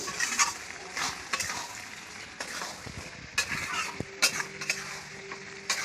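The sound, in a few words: stirring and frying tomato masala for ghugni in a pan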